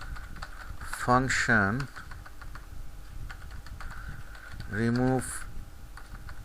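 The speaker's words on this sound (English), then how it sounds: "I'll type here" Keys clatter on a computer keyboard as ActionScript 3.0 code for a maze game is typed, with soft, steady clicks running beneath a man's speech.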